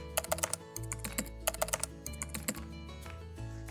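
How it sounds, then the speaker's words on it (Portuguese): Quick keystrokes on a computer keyboard come in small clusters of rapid clicks, close and fairly quiet over a faint steady hum. "E aqui, basta digitar"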